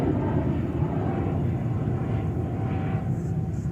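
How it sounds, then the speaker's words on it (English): A Korean Air Airbus A380 taking off from runway 13 right at JFK gives off a continuous, fairly loud low jet rumble with a broad roar that stays steady the whole time, with no talking. "Let's enjoy this bad boy taking off here on runway 13 right."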